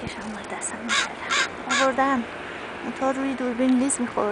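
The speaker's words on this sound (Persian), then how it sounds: "چقدر زیادن کلاغا." Crows caw in repeated harsh calls, several birds sounding outdoors in winter, while someone talks over them in Persian.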